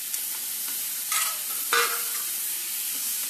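Grated radish filling for stuffed paratha is sautéed in a pan: a soft, continuous sizzle broken by a couple of brief scraping stirs.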